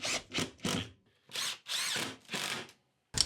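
A power drill drives screws joining 18mm MDF and 12mm plywood into a T-shaped fence, giving several short whirring bursts separated by brief pauses.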